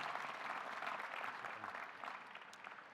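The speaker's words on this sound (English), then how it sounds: "How about a round of applause for these special guests?" Sustained applause from the audience at a university graduate commencement ceremony honoring special guests, a broad, even patter of many hands that slowly eases off toward the end.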